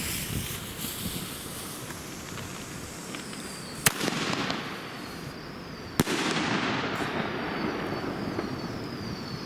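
Blue Star fireworks battery by Diamond firing outdoors: a continuous, loud crackling and hissing roar punctuated by two sharp bangs, with the dense noise carrying on steadily to the end.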